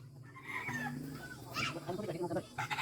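Chickens cluck in a rural village yard, one of them soon to be slaughtered, with several short calls close by alongside people talking.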